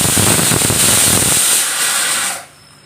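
A kitchen pressure cooker letting off steam, a loud steady hissing whistle that holds for about two seconds and then cuts away, leaving quiet.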